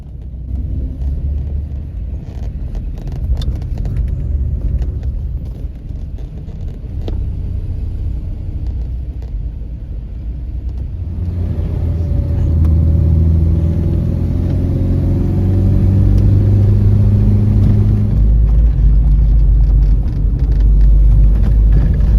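A Sunbeam Alpine driving steadily in Devon with a constant engine rumble and road noise, growing louder and deeper partway through as it picks up speed.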